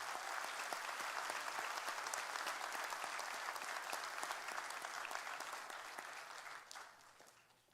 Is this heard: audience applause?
yes